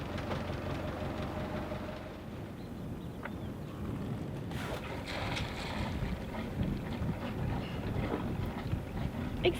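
A sailboat under way on the North Atlantic, with steady low rumble of water rushing past the hull and gusty wind buffeting the microphone, continuous and fairly close throughout.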